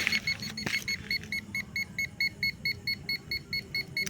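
Rapid electronic beeps from a malfunctioning metal detector that won't switch off pulse in a steady rhythm over low rustling and handling noise, fairly faint, with a short burst of noise near the start.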